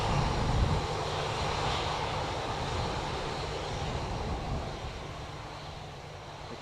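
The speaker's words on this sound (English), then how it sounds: "Aer Lingus A330 from Malaga next." An Aer Lingus Airbus A330 arriving from Malaga at Dublin Airport gives a steady, moderately distant engine roar under breezy conditions, fading slightly toward the end.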